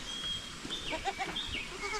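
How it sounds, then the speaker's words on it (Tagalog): A goat on a small farm with cattle bleats in a few short, wavering calls, close by over a murmur of background noise. "Yung kambing na yan."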